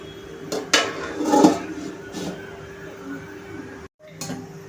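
A metal lid clatters onto a pan of cooking sabudana khichdi, giving a few close clinks and a short scraping rattle before the pan settles, with a faint kitchen hum underneath.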